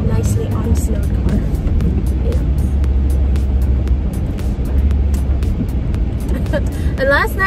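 Car cruising along a road on a snowy winter day: a steady low engine and tyre drone fills the cabin throughout, with someone speaking over it and a few clicks and faint chimes.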